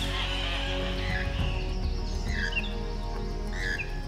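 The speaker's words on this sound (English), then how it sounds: "Birds, including migratory species, find their home in this habitat" Birds in the Chocó rainforest give scattered chirps and short whistled calls over a steady humming forest background, moderately distant and fairly faint.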